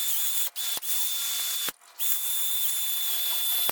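A handheld power drill whines steadily in short close bursts, stopping briefly a few times, as it scrubs old RTV sealant off a vehicle's differential cover.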